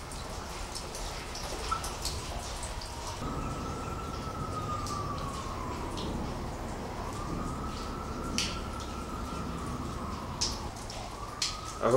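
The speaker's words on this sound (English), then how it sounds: "I hope the sirens keep going the whole time." Police sirens wail far off in long, rising and falling sweeps that carry steadily through the whole stretch, with sharp clicks and small knocks close by inside an abandoned county prison.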